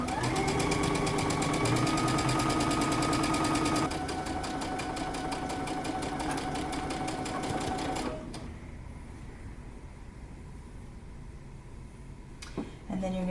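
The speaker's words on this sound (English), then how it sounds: "we're going to stitch it using 3/8 of an inch seam allowance, starting in the center and working towards one end" A sewing machine stitches a 3/8 inch seam on a Simplicity 8084 dress, whirring steadily and rapidly at close range for most of the stretch, then slowing and quieting toward the end, with a faint voice.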